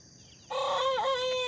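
Another rooster crowing in the morning, a single long crow starting after a short quiet lead-in, close and loud with a wavering middle.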